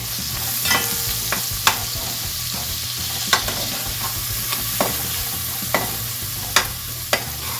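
Tomato paste cooks in a pot for a Haitian-style smothered turkey, giving a steady low sizzle and bubble with scattered sharp clicks and scrapes of a spoon stirring against the metal, close and without talk.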